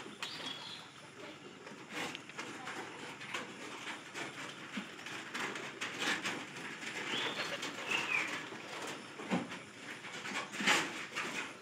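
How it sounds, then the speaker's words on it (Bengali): Pigeons coo faintly and intermittently against a noisy outdoor background, with scattered soft clicks and rustles around them. "ওই দেখ পায়রি যেতেছে"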